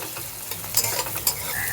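Chopped vegetables with capsicum stir-fry on high flame, a dense close sizzle broken by quick scraping tosses of the spatula against the pan.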